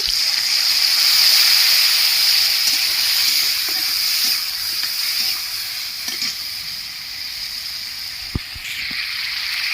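Soaked cumin and turmeric powder hits a hot pan of chopped tomatoes, giving a loud, steady sizzle and hiss that slowly eases, with a few soft clinks of stirring near the end.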